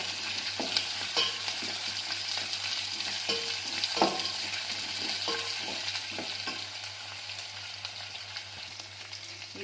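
Tomato chitranna rice being stirred in a frying pan, with a soft continuous sizzle and repeated scraping, clinking strokes of the spoon close by and no voices.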